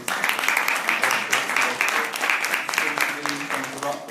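Audience applauding speakers at the close of a roundtable discussion, brisk steady clapping with voices talking underneath.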